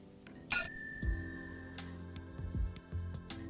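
Notification bell sound effect: a single bright, ringing ding that rings out and fades, followed by a few soft low knocks and clicks in a quiet room.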